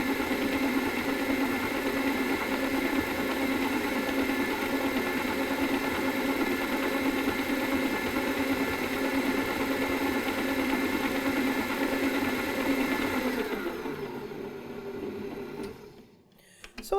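Kenwood Chef Major KM080AT stand mixer creaming ingredients, its motor humming at a steady whirring pitch for a long stretch before winding down and stopping near the end, with no voices.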